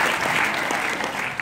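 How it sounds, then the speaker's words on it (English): A school audience at a student convention ventriloquism act breaks into brief, dense applause, a steady wash of many hands clapping at moderate loudness. "Give a clap of applause!"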